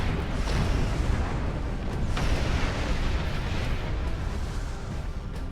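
Dense, rumbling barrage of sci-fi phaser explosions and blasts in Star Trek Online, loud and continuous, with no talking.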